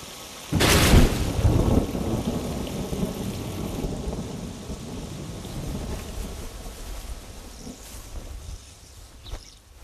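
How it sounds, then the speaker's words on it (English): Heavy desert thunderstorm downpour: a loud thunder crack early on, then steady roaring rain with rumbling thunder and wind throughout, a faint final clap near the end. "searching for one of these rare and highly localized downpours"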